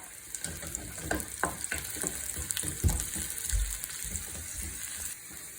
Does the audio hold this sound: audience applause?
no